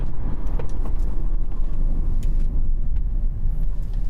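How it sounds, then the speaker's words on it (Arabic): A 2016 Mercedes C180 W205 Avantgarde sedan braking hard from 90 km/h, heard from inside the cabin as a loud, continuous low road-and-tire rumble with faint ticks and no talk. "وصلنا لحد 90 كده. تعالوا نجرب نفرمل ونشوف اللي هيحصل"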